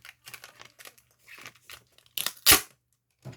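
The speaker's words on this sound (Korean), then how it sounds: "이 박스 테이프를 사용해 줄 겁니다" Box tape crackles and rasps in short bursts as it is pulled off the roll and pressed onto cardboard. A loud, sharp rip stands out near the end. The sound is close and there is no talk.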